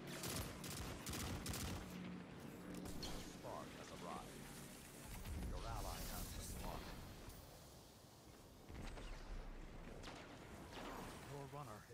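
Gunfire in the video game Destiny 2 during a spark-and-rift match: loud, continuous bursts of rapid shots and blasts that rise and fall, with voices heard over the shooting.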